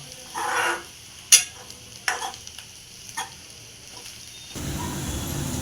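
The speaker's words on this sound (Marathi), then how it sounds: "हे वाटलेलं सुक्का वाटून आणि चांगलं परतून द्यायचं आपल्याला हे पण तेल सुटेपर्यंत परतून देऊया" Onion and ground garlic masala sautéing in a little oil in a pan for a Satara-style black ghevda dal amti, with a few brief stirring scrapes and soft sizzling that turns into a steady, louder frying hiss near the end.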